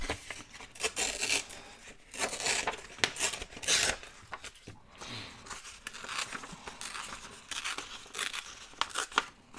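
Paper page torn by hand in a crafting session, a series of crisp rips and crinkling bursts at close range, with quiet gaps between them.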